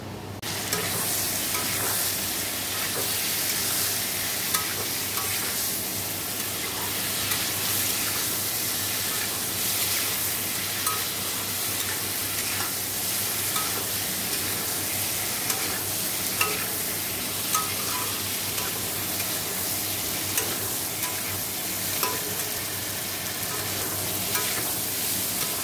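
Egg curry cooks in a frying pan at home, giving a continuous, even frying sizzle with soft, regular stirring scrapes throughout, close by and with no speech.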